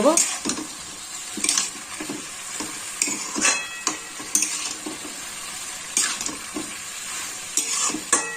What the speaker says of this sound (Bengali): ভালো করে আরেকটু ভেজে নেব